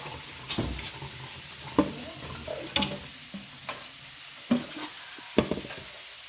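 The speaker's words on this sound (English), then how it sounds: "I'm going to stir up that macaroni and cheese" Spoon stirring macaroni and cheese in a home kitchen pot, with scattered scrapes and soft knocks at an uneven pace over a faint background hiss, no voices.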